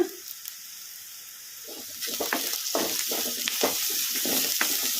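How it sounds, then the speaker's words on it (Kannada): Onion frying with salt in a pan until golden brown: a quiet start gives way to a close sizzle with rhythmic scraping stir strokes, and no one speaks. "ಗೋಲ್ಡನ್ ಬ್ರೌನ್ ಕಲರ್ ಬರೋವರೆಗೂ ಫ್ರೈ ಮಾಡ್ಕೊಂಬಿಡೋಣ"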